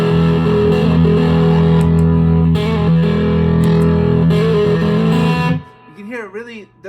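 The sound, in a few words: electric guitar through Kingsley Mason into Harlot tube pedals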